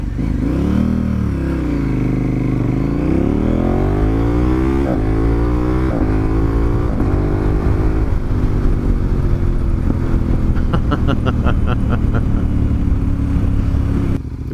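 A KTM 1290 Super Adventure motorcycle with a Healtech quickshifter accelerates hard through several rapid upshifts. The loud engine note climbs in pitch, dips at each quick shift, then settles into a steady, rough drone at speed.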